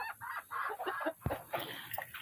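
Chickens and a lone junglefowl hen cluck steadily, close up and busy, inside a newly finished permanent coop, with overlapping calls and no talking.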